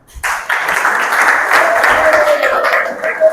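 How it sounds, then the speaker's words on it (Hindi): Loud, sustained applause from a student audience at a road safety session, starting abruptly and rolling on for about three seconds, with some voices mixed into the dense clapping. "दोनों के लिए जोरदार तालियां।"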